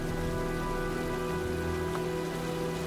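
Steady rain from the video game Heavy Rain, a dense continuous patter on surfaces, even and fairly loud with a faint tonal hum underneath and no talking.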